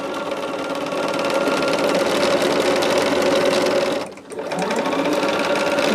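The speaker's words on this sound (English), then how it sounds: "We are sewing everything on 1/4 of an inch today." A sewing machine runs continuously, stitching quilt pieces at a quarter-inch seam with a loud, even mechanical whir, then briefly slows and dips before picking back up to full speed.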